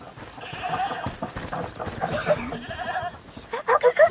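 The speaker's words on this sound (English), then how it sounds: "Is that the goat you talked about?" A goat bleats in the video game A Plague Tale Requiem, several wavering calls that grow louder and closer toward the end, while voices talk over much of it.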